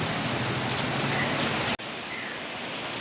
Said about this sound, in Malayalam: കണ്ടോ, മഴ പെയ്തുകൊണ്ടേ ഇരിക്കുകയാണ്.